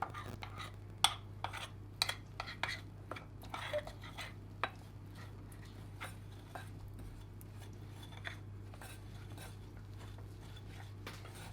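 Greek yogurt and whey protein are stirred together in a bowl, a spoon tapping and scraping in quick, light clinks that cluster early and then soften into a faint, steady scrape over a low hum.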